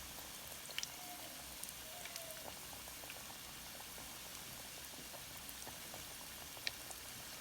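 Chicken lollipops fry in oil, a quiet continuous bubbling sizzle with scattered small pops and crackles, steady and close with no voices.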